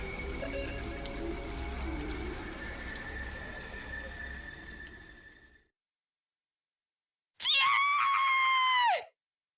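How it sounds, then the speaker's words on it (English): A sudden, piercing scream rings out at night in The Hundred Line: Last Defense Academy, loud and sustained for about a second and a half. Before it, steady rain patters and fades away into a stretch of silence. "The sudden cry ran through the night."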